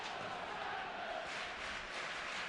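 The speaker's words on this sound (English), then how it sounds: "Very loud Panthers crowd here, making some noise already." Nottingham Panthers fans at an ice hockey playoff game make a steady, distant roar of crowd noise that swells slightly without breaking, with no clear single voice standing out.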